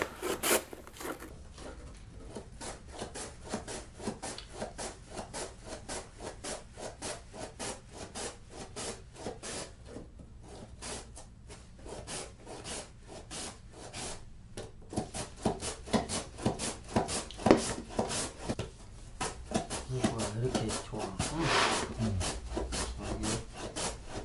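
Vegetables are grated by hand for a Korean saengchae side dish, a steady rapid rasping rhythm of strokes against the grater, close and continuous, growing slightly louder and more uneven toward the end.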